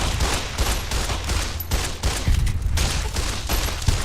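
Rapid bursts of gunfire from the video game Fallout New Vegas, dense overlapping shots in a continuous fusillade lasting several seconds, loud and close, with no talk.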